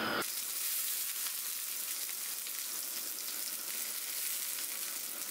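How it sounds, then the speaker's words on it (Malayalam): Fenugreek seeds, shallots and curry leaves crackle and sizzle in hot oil for a fish curry, a dense, even frying hiss that runs steadily throughout at a moderate, close level with no voices. "ഇതിലേക്ക് ഇനി ആദ്യം ഉലുവ ഇട്ട് കൊടുക്കാം"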